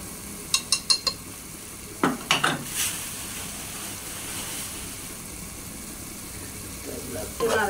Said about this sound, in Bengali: একটু নাড়াচাড়া করে দিয়ে